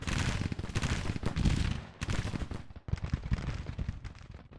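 Union guns fire in Grand Tactician: The Civil War, a Civil War battle game: a dense barrage of overlapping cracks and booms rolls in waves, briefly dips twice, then resumes with loud, close shots.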